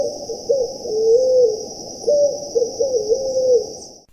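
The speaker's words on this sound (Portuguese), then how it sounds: "é uma pomba, muito comum no nordeste do Brasil" Deep, hollow calls of a picazuro pigeon repeat in a slow rhythmic phrase, with a steady high insect-like whine running throughout.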